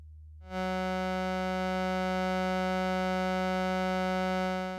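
A Dual Universal Slope Generator synth module puts out a complex waveshaped tone, a steady buzzy drone rich in harmonics that swells in shortly after the start and holds at constant loudness.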